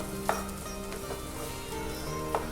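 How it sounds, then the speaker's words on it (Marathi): Finely chopped potato sautéing in hot oil with green chillies for a fasting-style potato bhaji, a steady sizzle broken by a few soft spoon-stirring clinks, close and fairly quiet. "आता आपण त्याच्यामध्ये बटाटा घालूया कट केलेला बारीक चिरलेला छान मिक्स करायचे"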